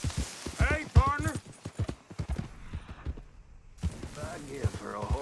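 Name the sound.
horse hooves from the video game Red Dead Redemption II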